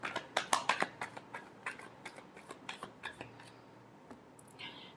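Tarot cards are shuffled close up, a quick run of crisp papery riffle snaps that slows into a few scattered flicks before fading.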